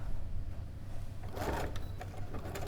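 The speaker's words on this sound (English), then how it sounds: "I'm going to sew along the right hand edge with a 1/4 inch seam allowance" A sewing machine stitches a 1/4 inch seam along a fabric edge in a short, faint mechanical run of quick rattling bursts over a low room hum, with no speech.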